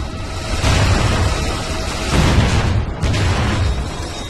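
Heavy bombardment in the Ratchet & Clank Future: Tools of Destruction video game, a dense, continuous roar of booming explosions that swells and surges several times, loud and close, with no talk.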